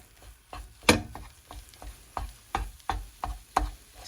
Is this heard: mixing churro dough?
yes